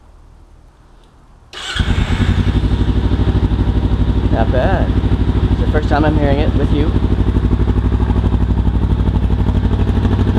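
Kawasaki Ninja 300 fitted with a Yoshimura R-77 carbon full exhaust system starts up after a quiet moment and settles into a loud, steady close-up idle, while someone talks over it briefly.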